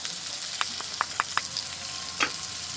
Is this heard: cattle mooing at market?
no